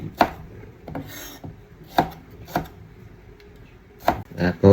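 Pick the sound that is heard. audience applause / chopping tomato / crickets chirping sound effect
chopping tomato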